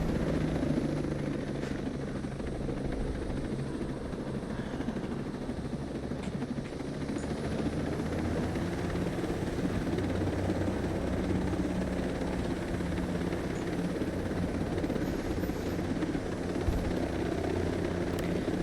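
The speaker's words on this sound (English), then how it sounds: "Another helicopter." A helicopter in the video game Ghost Recon Breakpoint flies steadily nearby, its rotor drone loud, continuous and unbroken across the whole stretch, with no talking over it.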